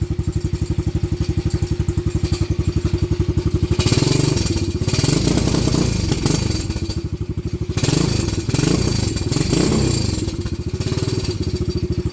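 A Venom Madix 125 motorcycle with carburetor problems runs close by, its engine chugging in a fast, uneven idle that surges and stumbles in rough bursts partway through.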